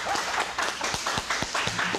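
A live audience at a rock and roll show claps and cheers for the great Sardini, a dense, steady wash of applause with scattered whoops running throughout.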